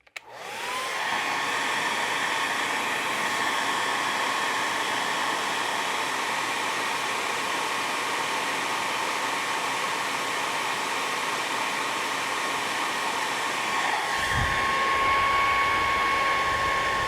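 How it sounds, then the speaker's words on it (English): A hair dryer blows continuously for about seventeen seconds, a loud steady whooshing whine close by, clicking on at the start and shifting setting near the end with a faint tone change. "cool function on the hair dryer"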